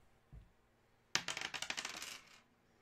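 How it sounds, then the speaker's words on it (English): Dice rolled to pick a box during a hockey memorabilia box break: a close, quick clatter of tumbling clicks lasting about a second and a half, heard alone with no talk. "let's roll the dice"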